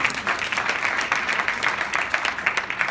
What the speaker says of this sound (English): Afterwards, a round of applause.